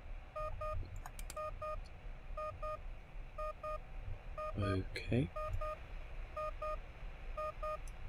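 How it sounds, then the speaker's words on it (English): In the horror game Fear Equation, a device gives off paired electronic beeps in a steady repeating pattern, with a rising chirp partway through, under a low rumble and a brief spoken word. "You're beeping, why are you beeping?"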